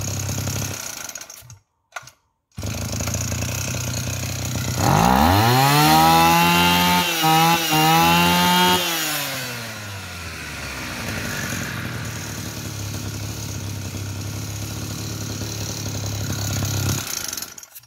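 Old rusty Mitsubishi T170 engine running steadily and loud, a rough mechanical drone that briefly cuts out twice near the start, then swells and rises in pitch for a few seconds before settling back to a steady idle.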